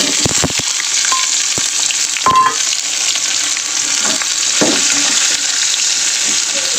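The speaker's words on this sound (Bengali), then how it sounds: "দেখো এই পেঁয়াজ কুচানোগুলো তেলের মধ্যে দিয়ে দেবো।" Chopped onions with nigella seeds drop into hot oil and fry loudly. A dense, close hiss follows a few sharp pops and clicks at the start, with occasional stirring.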